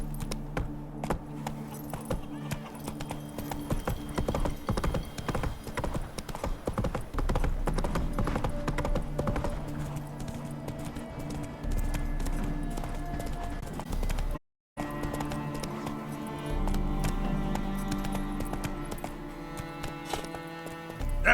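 Hooves of Roach, a horse in The Witcher 3 game, clopping at a steady gallop with rhythmic thuds over game music, loud throughout and breaking off briefly midway.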